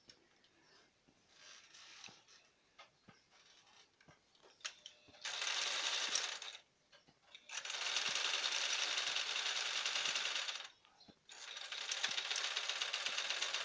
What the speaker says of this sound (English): Sewing my seams 1/2 inch.